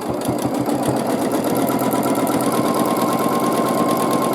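A sewing machine runs steadily while machine-quilting a baby quilt, a continuous fast motor whir and needle chatter that stays loud and even throughout, with no talking.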